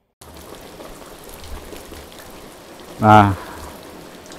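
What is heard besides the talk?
heavy rain in a village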